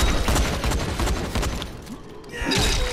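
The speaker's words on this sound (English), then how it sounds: "Man, that gunfire's bursting my eardrums." Rapid gunfire bursts from the zombie video game Dying Light: The Following, loud dense crackling shots packed close together, easing briefly before another burst near the end.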